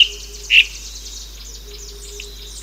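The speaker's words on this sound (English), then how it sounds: "And then the long-tailed thrush," A thin, high long-tailed thrush song with a sharp squeaky note near the start, then faint buzzy trills over a quiet background hiss.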